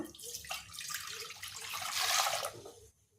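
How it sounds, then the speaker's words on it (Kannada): Water runs steadily into a vessel, a bright splashing pour that builds in strength and then stops abruptly near the end. "ನೀರು ಹಾಕ್ಬೇಕು"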